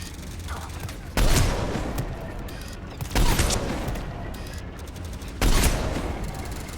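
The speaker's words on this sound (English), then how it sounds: "Commander, we're getting a lot of mortar fire" Three heavy blasts of mortar fire in the video game Mass Effect 3, each a sudden broadband boom with a rumbling tail, spaced a couple of seconds apart over constant background battle noise.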